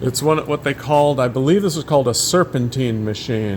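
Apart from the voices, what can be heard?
No distinct noise like a dog, phone or traffic.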